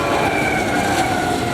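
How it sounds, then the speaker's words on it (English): Union Pacific freight train ZSCG2 led by locomotive UP 2635 rolls past in Layton, Utah, a steady loud rumble with sustained wheel and engine tones filling the whole stretch, no voices. "This train had UP 2635 leading."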